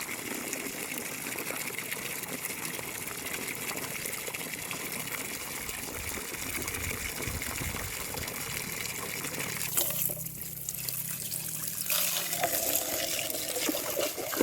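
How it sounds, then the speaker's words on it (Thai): Water running from a tap into a basin, a steady close gushing and splashing stream with a brief change in tone near the end as the flow shifts. "น้ำใส่อ่างให้เต็มอ่างก่อนนะ"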